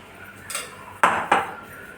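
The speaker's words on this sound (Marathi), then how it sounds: "तर छान असं मिक्स करून घ्यायचं" A spoon mixes a mixture in a bowl, giving a few sharp close scrapes and clinks of metal on the dish, with quiet pauses between and no talking.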